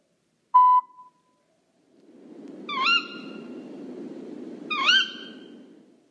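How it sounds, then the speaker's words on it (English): A bird calls twice at night on a safari, each a bright descending whistle with rich overtones, clear and fairly close over a soft low background murmur, preceded by a short electronic beep. "It was a bird."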